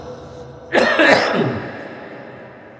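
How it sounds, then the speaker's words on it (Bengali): A man with a cough that will not go away lets out one loud, harsh cough close to the microphone, which then trails off into quiet. "কাশিটা বন্ধ হচ্ছে না"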